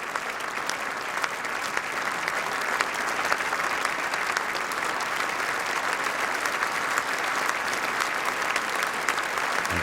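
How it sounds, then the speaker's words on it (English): Sustained applause from a large crowd in the UK Houses of Parliament for Queen Elizabeth II's Diamond Jubilee address, steady and fairly loud throughout, with no pauses. "the Queen once again acknowledges the applause"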